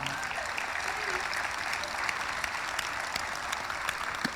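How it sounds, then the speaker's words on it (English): An audience at the 2024 South Whidbey graduation ceremony applauds, a dense, steady clapping from a large crowd that continues throughout. "Give yourselves a round of applause."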